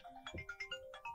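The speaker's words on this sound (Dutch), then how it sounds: "Dat is een alarmsignaal. Dat is mijn telefoon die afgaat." A mobile phone ringtone plays a short, bright electronic melody of quick repeating notes, fairly quiet and heard on its own.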